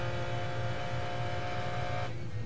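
A McLaren F1 GTR race car engine at Le Mans roars loud and steady with a strong low drone and high harmonic whine, heard close up in the car under hard braking, the tone shifting near the end.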